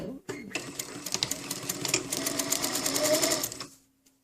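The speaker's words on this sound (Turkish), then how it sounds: "şu kenara da bir gazi dikiş atacağız" A sewing machine stitches along the edge of a shirt placket, running as a fast, even, close run of needle clatter for about three seconds before it stops. A voice speaks briefly over it.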